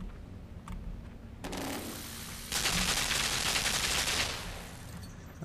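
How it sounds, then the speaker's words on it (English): Rapid turret gunfire in the video game Limbo, a dense rattling burst that swells in loudness midway and holds for a couple of seconds before easing off, with no talk over it. "What a weird place to put a turret."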